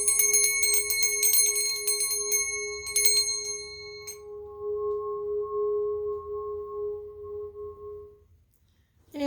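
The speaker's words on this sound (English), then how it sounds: "We're going to do a little cleansing here with the golden singing bell." A golden singing bell is rung repeatedly for cleansing, its bright metallic strikes ringing close and clear over the first four seconds before a steady humming tone lingers and slowly fades to near silence.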